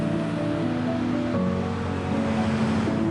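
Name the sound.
air hissing while inflating a car tire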